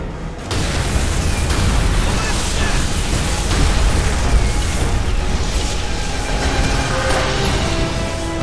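Explosive charges go off in Call of Duty: World at War, a sudden heavy boom followed by a sustained rumbling roar of blasts and debris, loud and close, with voices faintly mixed in.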